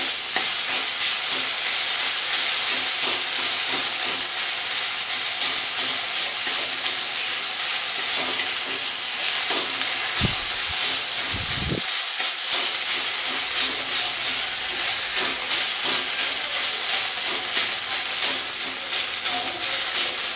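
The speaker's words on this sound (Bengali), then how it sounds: "মশলাটা একটু হালকা করে ভেজে নেব।" Spice masala frying in oil in a pan for a masala egg curry, a loud continuous sizzle with occasional stirring scrapes and a brief dip partway through.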